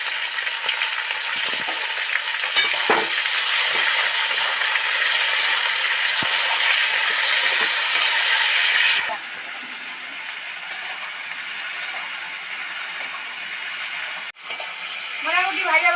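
Telakucha greens fry in a pan with salt sprinkled over them, giving a loud, steady sizzle and hiss that eases partway through and then carries on more softly, with brief stirring clatters.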